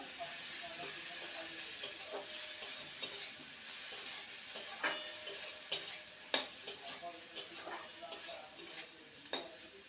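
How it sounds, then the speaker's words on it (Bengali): A utensil scraping and knocking against a pan as kakrol is stirred with fresh grated coconut, irregular clinks and taps that grow busier toward the end over a faint steady sizzle. "নারকেল কোড়া দিয়ে ভালো করে নেড়ে নেবো"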